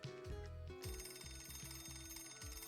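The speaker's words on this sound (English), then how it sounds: "his phone rang." A phone rings in the Piofiore video game, with a steady repeating electronic trill in evenly spaced bursts, quiet and alone.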